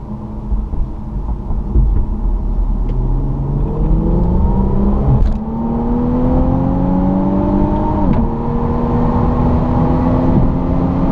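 A car accelerating hard in third gear on an open road, engine note climbing steadily through the gear with a brief dip and another rise, loud and close from inside the cabin.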